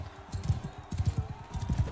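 Horse hooves from riding in the Mount & Blade Bannerlord video game, a quick run of clip-clop beats in uneven clusters, close and moderately loud.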